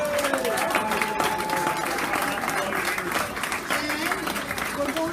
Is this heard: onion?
no